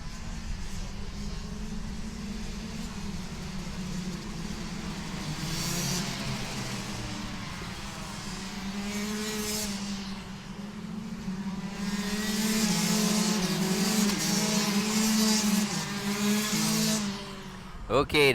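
Eighteen racing karts on a formation lap circuit hum along two by two, engines droning and rising in pitch as they pass, with a commentator talking over the steady motor noise.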